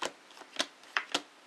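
Tarot cards riffled and shuffled in a handful of crisp, snappy bursts at uneven intervals, close and fairly quiet with no talking.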